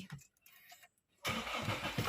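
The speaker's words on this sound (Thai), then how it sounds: "เดี๋ยวสตาร์ทรถดูกันเลย" A Toyota Fortuner 2.4V 2WD from 2020 starts up after a near-silent pause, and the engine jumps to a loud, steady, close idle that keeps running to the end.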